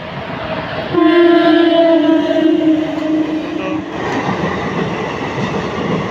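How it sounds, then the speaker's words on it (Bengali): A DEMU passenger train enters at speed at night heading toward Cooch Behar, its loud sustained horn blaring for about three seconds before fading into the rumbling rush of the passing cars. "দ্রুত গতিতে ট্রেন ঢুকে গেছে"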